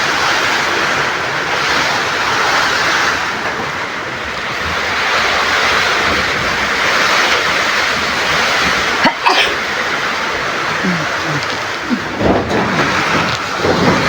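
Heavy rain pours steadily during a late-night thunderstorm as water seeps through the wall into a house, a dense continuous roar with a couple of sharper bursts near the end.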